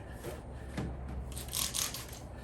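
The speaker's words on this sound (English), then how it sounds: "That noise you hear is it pulling off the contaminants." Faint, steady rubbing and squeaky friction of a clay bar on car paint, pulling off contaminants, with soft swishing strokes that rise and fall over a couple of seconds.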